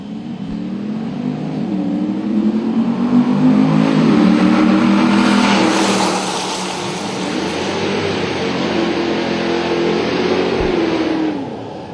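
A Nitto Tire fifth-generation Camaro drag racing at Atlanta Dragway during an NMCA event roars loudly as it revs and accelerates down the strip, with engine pitch rising and sweeping.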